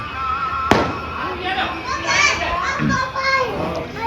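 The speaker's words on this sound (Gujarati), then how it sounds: "ફટાકડા ક્યાં ફૂટે રહ્યા?" Diwali firecrackers burst amid festive chatter: one sharp, loud bang stands out early, followed by scattered crackle while children's voices talk and shout throughout.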